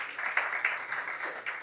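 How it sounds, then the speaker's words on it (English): An audience applauds steadily through the whole stretch at a music-in-film industry conference session, a dense wash of many hands clapping at moderate loudness with a few sharper individual claps, no voices. "Let's give him another round of applause."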